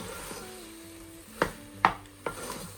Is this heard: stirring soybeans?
yes